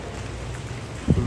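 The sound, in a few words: rain falling during a walk in Sochi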